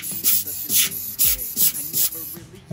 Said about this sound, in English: Now I'm just going to brush around, just making sure that it really gets into all of the little nooks and crannies, absorbing all of the remaining super glue